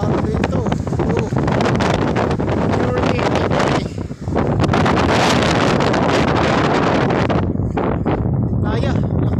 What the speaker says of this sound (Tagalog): Kaya, lakas ng hangin talaga.